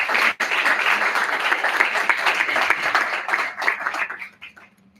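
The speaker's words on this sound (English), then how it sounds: "Can I get a round of applause for both of our teams?" An audience at a college debate between Republican and Democrat clubs applauds both teams, a steady, fairly loud round of clapping that thins out and fades near the end.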